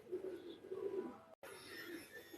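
Pigeons coo softly in low, throaty murmurs, faint and close, broken by a brief moment of silence partway through.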